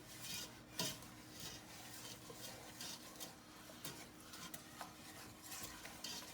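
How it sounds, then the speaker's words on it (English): Sugar stirred by hand into chocolate cookie dough in a mixing bowl, with a run of soft, faint scraping and tapping strokes against the bowl and no voices. "Joe, and Jaylin, can you keep stirring, please?"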